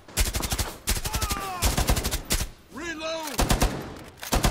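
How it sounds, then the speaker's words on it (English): Machine gun fire in the Rainbow Six Siege video game, rapid close bursts of tapped shots repeating in short strings, with electronic whooshes and game effects sounding between bursts. "I like the way I'm able to, like, just tap the machine gun."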